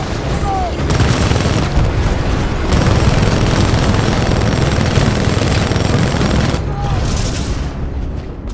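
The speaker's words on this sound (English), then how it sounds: "Target's locked. Firing!" A Titan weapon in Titanfall 2 fires as sustained, dense, heavy booming bursts, very loud and close, with a brief pause before the barrage resumes.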